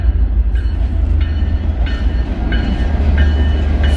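Geometry train rolling past at Winslow, loud and close, with a heavy low rumble and rhythmic clicking of wheels over rail joints repeating about every half second.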